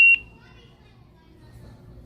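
A store price scanner at a bargain shop gives one short, high electronic beep at the very start, then quiet low murmuring room noise follows.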